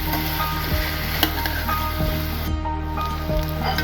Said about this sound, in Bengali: কপি আর আলুটা ভালোভাবে ভেজে নেব।